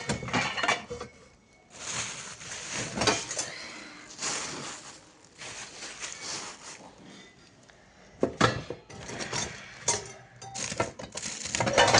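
Metal cooking pot, its lid and plates being handled, giving repeated clinks and clatters in irregular bursts, close and fairly loud, with no talk.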